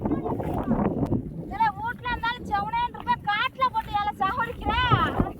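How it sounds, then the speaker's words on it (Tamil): Wind gusting across an open sedge grass field where grass bundles are being carried, heard as low rumbling buffets against the microphone, strongest at the start, under people talking. "காத்து தள்ளுது"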